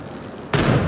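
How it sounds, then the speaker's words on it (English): A single sharp gunshot in the stealth action game Dishonored 2 cracks out loud and close at mid-clip, cutting into quiet ambient room tone and leaving a brief rumbling tail. "Was that a gunshot?"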